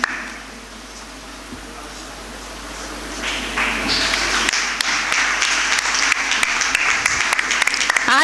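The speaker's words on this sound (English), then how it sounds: "Let's give a huge round of applause to the graduates of Commerce" Applause for graduates at a women's college graduation ceremony: a large crowd starts clapping softly, then swells into sustained, dense clapping with a few sharp individual claps standing out.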